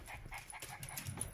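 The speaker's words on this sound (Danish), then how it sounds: "hun begynder at gø" A small dog barks and whimpers excitedly indoors, a few short, close yelps spread across a brief moment with faint background noise.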